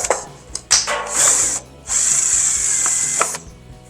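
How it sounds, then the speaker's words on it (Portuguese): A power drill with a 10 mm bit bores a hole in a part for a homemade water pump, with high whining bursts of drilling, a short pause mid-way and a longer steady run, close and loud with no talk. "Vou voltar com a broca de 10, porque temos que fazer furos."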